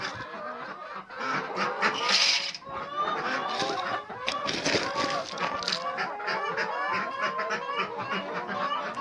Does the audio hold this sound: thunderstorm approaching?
no